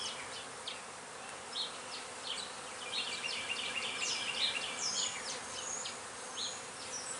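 Honeybees buzz around an open young hive, a continuous soft droning hum with individual bees passing close now and then, fairly faint and steady throughout.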